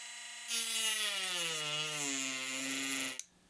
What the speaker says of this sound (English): I'm going to use my Dremel to cut away a portion of the back, being very careful not to nick the circuit board